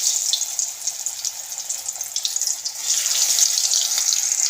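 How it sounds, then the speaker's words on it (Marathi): Wheat flour Chinese rolls sizzling in hot oil in a kadhai, a steady hissing fry that swells louder partway through as more rolls go in, with no talking. "आता आपण एक एक रोल करून यामध्ये सोडून घेऊया छानाला फ्राय करून घेऊया"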